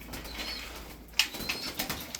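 Sütbeyaz pigeons, a mixed group of males and females foraging for feed, give soft coos and a brief burst of wing flapping near the middle, close and fairly quiet with no talk.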